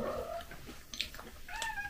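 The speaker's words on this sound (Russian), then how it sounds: "Кошка." A domestic cat meowing up close, a couple of short strained cries and a high squeak, with faint indoor background noise.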